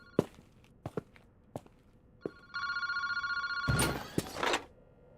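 A telephone in a park phone booth rings in PARANORMASIGHT, a sustained electronic bell trill that comes in after a few separate footsteps and thuds, then gives way to a louder burst of noise.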